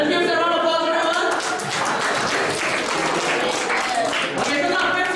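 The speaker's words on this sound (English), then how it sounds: "Let's give us a round of applause, everyone." Audience clapping fills a keynote talk on building rapport, a brisk round of applause lasting a few seconds with a voice speaking over its start.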